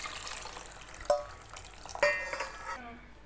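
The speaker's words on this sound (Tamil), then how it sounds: "புளி ஊற்றிட்டு கலக்கணும்" A spoon stirring poured tamarind water into a pot of sardine curry, with short scraping clinks against the metal pot and a soft liquid swirl. The sound is close and moderately quiet, with no talk.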